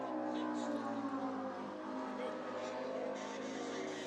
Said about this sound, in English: It's Bradshaw, Tabor, Hicks, Swain battling as they drive down the front stretch.